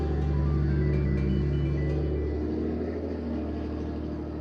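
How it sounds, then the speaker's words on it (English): Heavy truck engine rumbling loudly close by, a steady deep drone with faint higher whine, filling the whole stretch with no talk over it. "This truck behind me is so loud"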